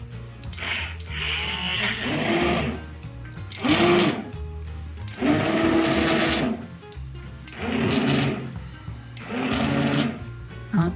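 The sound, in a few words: immersion blender blending pumpkin soup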